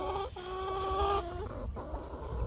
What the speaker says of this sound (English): here we have our 4 oldest hens and our rooster